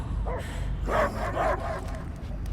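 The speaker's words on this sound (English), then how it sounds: "I hear only barking" A dog barks in Marvel's Guardians of the Galaxy video game, a few yapping, whimpering barks over a low game-soundtrack rumble, fairly near and alone without talk.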